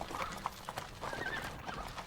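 Hooves clip-clop in a steady trot while a horse whinnies briefly, close by, with faint outdoor background noise.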